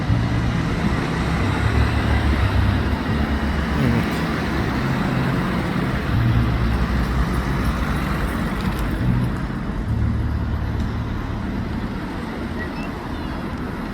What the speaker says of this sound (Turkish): trafik hat safhada.